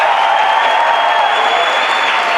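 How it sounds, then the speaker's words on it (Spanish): A live podcast audience claps steadily and loudly throughout, a dense continuous wash of applause with no voice standing out. "un aplauso al público en vivo"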